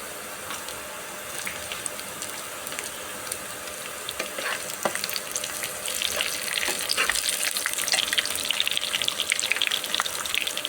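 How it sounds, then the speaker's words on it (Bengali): Split green chilies frying in a pan with already-fried onion and garlic for a simple pumpkin dish: a steady close sizzle that grows louder, with scattered stirring clicks and no talk. "যে পিঁয়াজ রসুন ভাজা হয়ে গেছে এখন আমি কাঁচামরিচ চেরা দিয়ে দেব"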